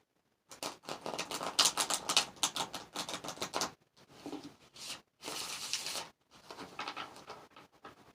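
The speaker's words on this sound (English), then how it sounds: "we're going to get one more shuffle." Rapid papery riffling and flapping in several bursts as a deck of tarot cards is shuffled, close and crisp with short pauses between.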